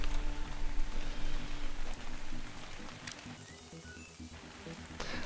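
Steady rain falls in the video game Dark and Light, a dense, even hiss of drops on surfaces that fills the clip alone, with a brief quieter dip near the end before it swells again.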